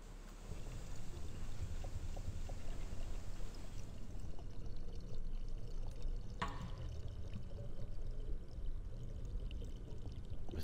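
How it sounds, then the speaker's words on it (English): In the PS2 game Avatar: The Last Airbender – The Burning Earth, water slurry gushes and pours steadily for about ten seconds, a continuous churning rush with a brief sharper splash midway, and no talking. "Unnerving water slurry sounds."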